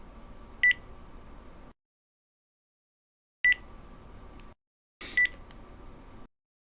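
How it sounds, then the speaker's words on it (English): Three separate bursts of telephone keypad dialing tones while a number is entered, each short bright beep sitting over a low background hum with quiet gaps in between. "I'm going to have to make a phone call to her, I think."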